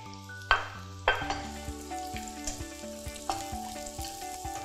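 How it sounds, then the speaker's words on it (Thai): Taro pieces stir-fried in hot oil in a pan, a close crackling sizzle with sharp spatula knocks and scrapes at irregular intervals, including a few louder clanks early on. "เราจะเริ่มจากการผัดเผือกก่อนนะคะ"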